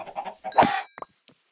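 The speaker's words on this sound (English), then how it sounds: "Chicken." A chicken in the video game Sken Camp gives a quick run of clucks that rise to one louder squawk, then a couple of faint, short clucks, close and alone.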